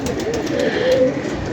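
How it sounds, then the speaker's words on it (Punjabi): A pigeon held in someone's hands gives soft, continuous throaty cooing, close and moderately loud, over a faint background hiss. "ਕਬੂਤਰ ਚੈੱਕ ਕਰੋ, ਇਹ ਐਸੀ ਪੋਜੀਸ਼ਨ 'ਚ ਫੜਿਆ"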